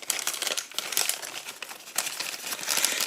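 A plastic bag holding 15mm miniatures is torn open up close, giving loud crinkling and crackling in uneven bursts throughout.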